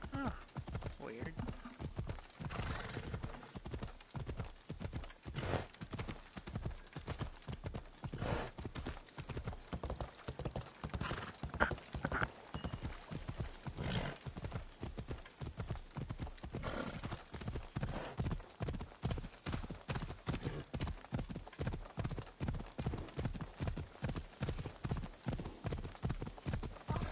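Steady clip-clop of horse hooves galloping throughout in Assassin's Creed Odyssey, with a brief whinny partway through, under occasional talk and game sounds.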